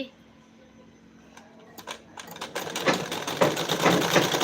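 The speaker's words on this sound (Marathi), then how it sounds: "शिलाई मिशन घेऊन बसायची" A household sewing machine starts up and runs, its rapid mechanical clatter building from a few taps into a steady, close whir with a faint hum underneath.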